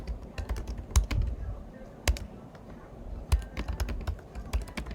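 Quick clicks of typing on a computer keyboard, a steady run of keystrokes with a few louder taps, close and fairly quiet.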